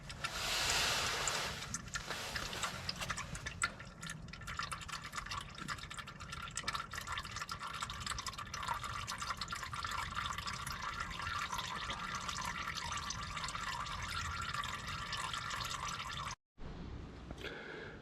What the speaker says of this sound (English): while the oil is actually draining there